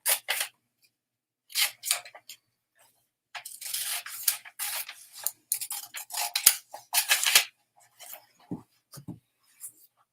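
Scissors snipping a picture out of a sheet of paper for a vision board, a close, quiet series of short crisp cuts in bursts separated by silences.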